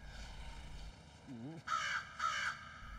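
Crow cawing twice, two loud harsh calls in quick succession following a brief wavering sound, set against a low background rumble.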